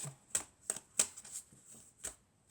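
Tarot cards are shuffled and drawn at close range in a few short, crisp riffling bursts separated by brief pauses, with no talk.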